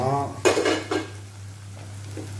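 A cooking pot lid is lifted with a couple of sharp metallic clinks and a light rattle against the rim, close up, followed by quiet background hum.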